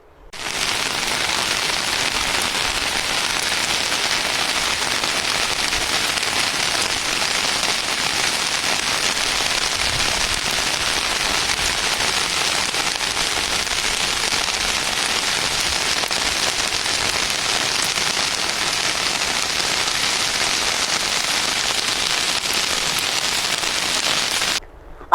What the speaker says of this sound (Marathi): अधूनमधून अवकाळी पाऊस पडू लागला आहे